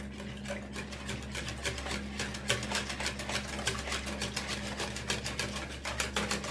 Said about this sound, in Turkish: Güzelce çırpalım. İyice çırpalım.